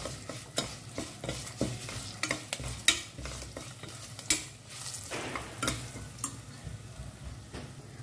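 Lemon rice (chitranna) tempering with turmeric powder sizzles gently in a pan on a low flame while a spoon stirs and scrapes it, making frequent sharp scraping clicks over a steady soft frying hiss.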